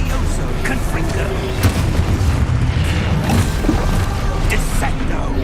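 Confringo explosion spell cast in the video game Hogwarts Legacy: dense, loud booming blasts rumble almost continuously, with sharper cracking bursts layered over a heavy low roar throughout.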